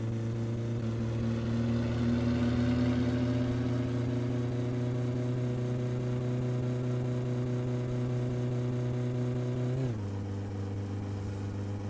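A car engine in My Summer Car, just after a head gasket replacement, revving steadily with a droning mid-pitched whine that rises slightly, then drops abruptly near the end as the revs fall, heard alone without talk.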